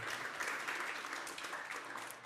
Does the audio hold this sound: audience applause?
yes